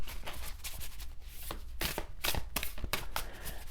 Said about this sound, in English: let's do some shuffling and see what else we get.